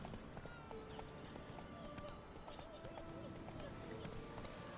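A horse galloping in Witcher 3, with quick rhythmic hoof clip-clops running continuously at moderate level amid game ambience and faint background tones.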